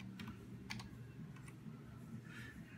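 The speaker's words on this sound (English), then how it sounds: "then type in your password" Quiet, close keystrokes on a computer keyboard as a password is typed, a short irregular run of soft clicks over faint room hum.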